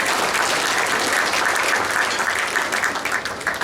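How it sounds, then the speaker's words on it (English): A short burst of dense, sustained applause from the audience at a Rotary Club changeover night, loud and even before easing off slightly at the close. "I think that's worth a round of applause."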